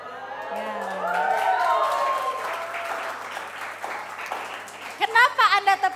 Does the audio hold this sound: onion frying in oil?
no